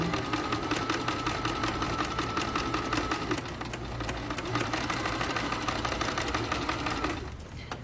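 Sewing machine stitching the side safety seams of a fabric pouch, a close, rapid continuous clatter running steadily for several seconds before slowing and stopping at the end.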